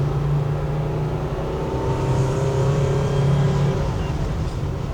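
Porsche 911 2.7 S engine pulling steadily around 4,000 rpm on a fast road with warm oil, a continuous low droning engine note heard from inside the car, loud and unbroken throughout.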